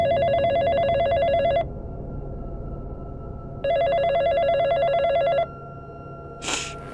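A cell phone rings with an incoming call at night, two loud electronic ringtone bursts separated by a pause, close by with no talk.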